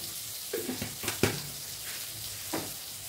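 Lentil dal with a little sugar sautéed in a pan, a low sizzle broken by several short scraping stirs, close and fairly quiet, with no voices.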